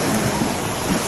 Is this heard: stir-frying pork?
no